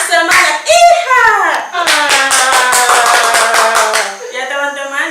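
Children chant a cheer in Indonesian during a kids' church service, punctuating it with a rapid burst of rhythmic hand claps. The clapping comes near and loud, mixed with young voices, and is repeated several times across the moment.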